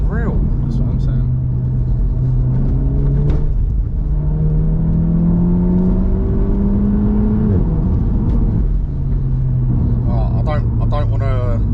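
A Volkswagen Golf R Mk 7.5 accelerates hard, its engine note climbing and dropping through gear changes in a loud cabin drone, with people talking over it.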